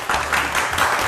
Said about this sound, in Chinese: 给 Peter 哥哥一个掌声。